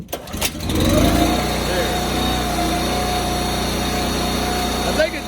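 Small gas engine on a firewood wood splitter starts back up after a brief crank and settles into a steady, loud, close running drone that holds for several seconds.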